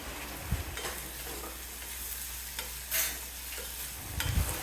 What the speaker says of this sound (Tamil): ஒரு கப் அளவுக்கு பொடிசாக வெட்டின தக்காளி, 6-7 பல்லு பூண்டு 1-2 தட்டினது, அதையும் சேர்த்து இப்போ வதக்கணும்